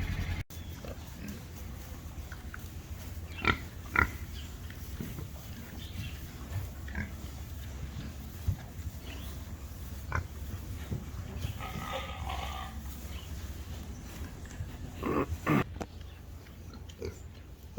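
Pigs in a pig barn grunt and squeal in scattered bursts against a quiet, low background hum, the sounds intermittent and moderately close.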